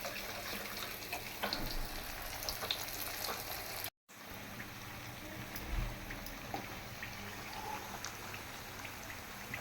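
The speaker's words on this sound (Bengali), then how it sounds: "পিঠাগুলো আমি রোদে শুকাইয়া এখন আবার দ্বিতীয়বারের মতো ভাজতেছি" Sun-dried nakshi pitha being fried a second time in hot oil, giving a steady, moderately quiet sizzle and crackle with scattered pops, broken by a brief silent gap.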